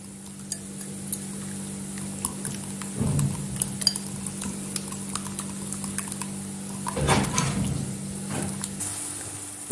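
Eggs and spinach with a little grated kashar cheese are stirred in a pan, soft scraping and tapping strokes with a low steady hum beneath, moderately close, no voices.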